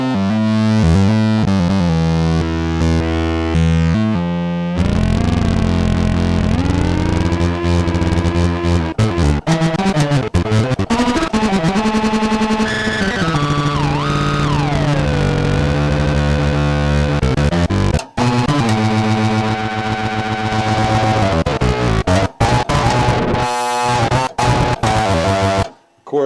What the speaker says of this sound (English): so it creates a sort of feedback loop, and you can come up with some really interesting sounds.